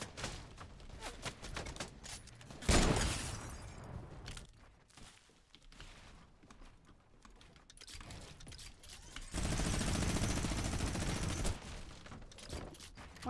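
Video game gunfire crackles in quiet bursts, with a loud blast of rapid shots near the start and a sustained dense stretch of firing later, mixed with softer in-game clatter.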